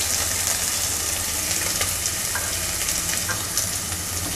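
Chopped onion frying in hot oil with mustard seeds and curry leaves for rava kichadi, a steady dense sizzle that holds evenly throughout with small crackles and pops rising from it, close and without talk.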